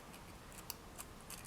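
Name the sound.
scissors trimming around polymer clay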